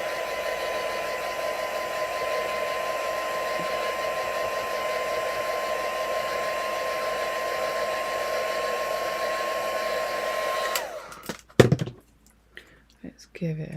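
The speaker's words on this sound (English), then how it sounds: "I'm going to just give this a quick blast because the ink will take a little while to dry." A heat tool blows steadily and loudly for about eleven seconds to dry ink on a craft piece, then cuts off, leaving brief clattering handling noises.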